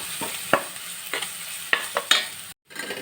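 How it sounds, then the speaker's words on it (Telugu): Cumin seeds and turmeric frying in a pan, with a steady low sizzle broken by several sharp scraping stirs of a spoon and a brief drop to near silence near the end. "కొంచెం జీలకర్ర పసుపు వేసి వేయించుకోవాలి"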